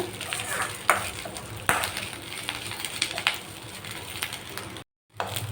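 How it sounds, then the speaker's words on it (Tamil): Young, soft home-grown curry leaves sautéing in sesame oil, crackling and sizzling steadily with several sharp spatula scrapes and a brief drop-out near the end. "இந்த மாதிரி நல்லெண்ணெயில் விட்டு வதக்கி எடுத்துக்கோங்க"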